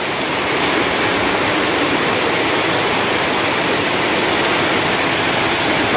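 Heavy rain pours in a steady, loud, dense roar before sunset, unbroken from start to finish with no voices.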